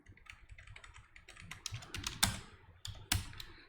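Code being typed on a computer keyboard while setting up AWS cloud resources, a fast irregular run of close, crisp keystrokes with a few louder clacks, no voices.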